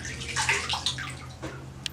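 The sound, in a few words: water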